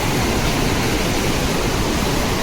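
Water released from the Pareshnath dam rushes fast through the Goraabari canal at Mukutmanipur, a loud, steady, dense roar with no break, close by.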